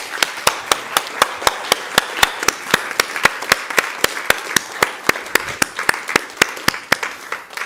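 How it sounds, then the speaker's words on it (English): Audience applause follows a panel discussion at a festival. It comes as sharp, evenly spaced claps in a steady rhythm, fairly loud and close, with no talking. "But please give them a round of applause."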